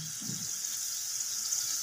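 Water poured from a vessel into a pan of fish curry (doi katla), a short continuous splashing pour heard close and alone.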